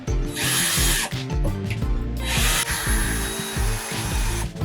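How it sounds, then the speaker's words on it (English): A power drill boring a hole in an overland camper during renovation, two loud bursts of whining, grinding drilling separated by a brief pause, close up and with no talking. "That's where we're drilling the hole."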